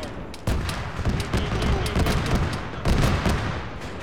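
Rapid gunfire in a military field training exercise outpost, dense repeated shots and booms close by with overlapping bursts throughout, as soldiers shout over it.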